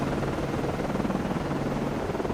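Two helicopters come in to land in the naval video game Cold Waters, a steady, loud rotor and engine drone that holds evenly throughout with no voices.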